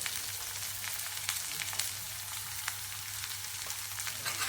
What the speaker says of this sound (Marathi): आता हे सगळं मस्तपैकी जरा असं भाजून घ्यायचं.